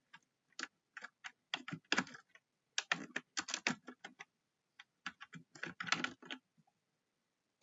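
Typing on a computer keyboard while entering WordArt text in PowerPoint, heard as quiet bursts of rapid key taps with short pauses between runs and no talking.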